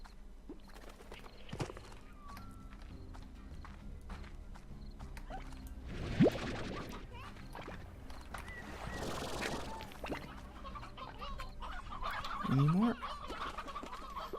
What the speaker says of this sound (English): I hear the sounds of birds, but I don't see them.